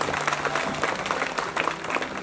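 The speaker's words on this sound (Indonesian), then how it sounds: "Nah, tepuk tangan buat semuanya." Members of a women's association applaud together at an indoor gathering, a continuous, moderately loud patter of many hands clapping with no talk over it.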